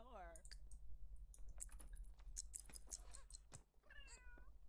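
In The Sims 3, a cat meows clearly at the start and again near the end, two short rising-falling calls. Between them come soft clicking and keyboard-like tapping, and a low hum runs underneath.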